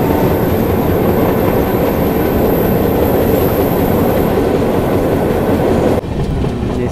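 The 18463 Bhubaneswar–KSR Bengaluru Prasanthi Express runs over the rails on a diversion toward Prasanthi Nilayam, heard from on board as a loud, continuous clattering roar that eases slightly near the end.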